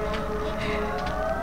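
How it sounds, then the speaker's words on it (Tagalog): A fire truck's wailing siren drifts in from afar, its tone held and wavering over a low background hum. "nakabati ako sa sirena sa bumbero sa malayo."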